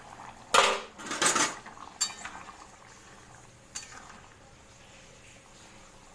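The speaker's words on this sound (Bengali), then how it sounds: "চাপাটা খুলে দেখে নিই।" A metal lid comes off a cooking pot with a loud clattering scrape and a couple of clinks, followed by a softer tap and a quiet bubbling background.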